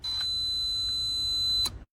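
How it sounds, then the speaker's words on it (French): A tester checking car fuses emits one continuous high electronic beep that holds steady for about a second and a half, bracketed by brief clicks and handling noise, then cuts off. "Il y a un bip?"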